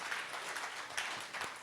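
Church congregation applauding during a Sunday worship service, a steady wash of many hands clapping at moderate distance throughout, with no talk over it.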